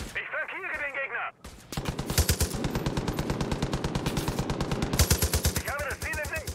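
Automatic gunfire in the video game Far Cry 5, a long rapid burst of sharp, evenly spaced shots that dominates, with brief speech before and after.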